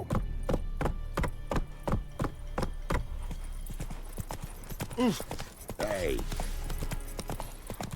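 Roach, the horse in The Witcher 3, gallops with a loud, regular clip-clop of hooves that gives way to whinnies and snorts, while a voice calls out briefly over it.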